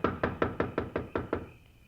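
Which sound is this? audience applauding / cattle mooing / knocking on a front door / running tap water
knocking on a front door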